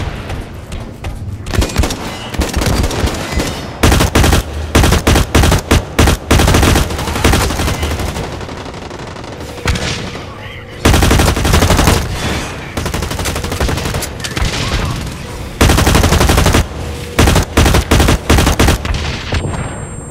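Rapid bursts of gunfire from the first-person shooter game Blacklight Retribution crackle loudly in repeated volleys, with short pauses between strafing runs and continuous automatic fire.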